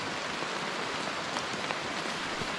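Heavy forest rain pours down in a dense, even hiss with occasional louder drops, steady and enveloping throughout.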